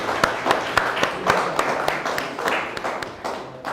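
A small audience at a science café talk on AI in the automotive industry claps, with fairly sparse, distinct hand claps in an uneven rhythm.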